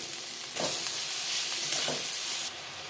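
Sliced ridge gourd hits a hot pan with turmeric and salt, setting off a loud, steady sizzle that swells after a quiet start and holds for about two seconds before dropping back, with a couple of brief stirring scrapes.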